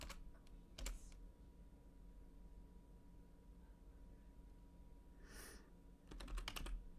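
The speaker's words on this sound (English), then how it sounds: "typing these names in is difficult" Bursts of fast clicking keystrokes on a computer keyboard, nearby and quiet, come in two short clusters at the start and end with a soft hum between them.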